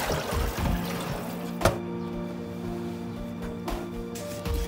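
Coconut milk poured into a pot of goat leg curry, a steady liquid splash lasting several seconds with a couple of sharp knocks, close and fairly loud, no talking.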